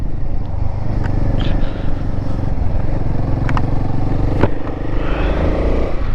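A motorcycle riding a foggy mountain road on a Northeast India trip to Tawang, a loud steady engine rumble mixed with wind buffeting and occasional clatters, heard from the rider's position without pause.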